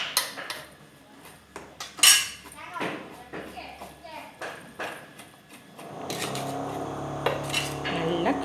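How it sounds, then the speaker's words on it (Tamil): Mango pieces for aavakkai pickle, with salt and chili powder, are shaken in a vessel: clinks and clattering knocks come first, then a rough, continuous shaking rustle, all while someone talks. "மிளகாத்தூள் போட்டுக்கோங்க, நல்லா குலுக்கி விட்டுக்கோங்க."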